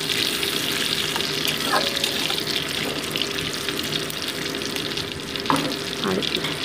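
Whole cumin seeds and bay leaves sizzling in hot oil in a pan, a steady dense crackle with a few brief sharper pops near the end.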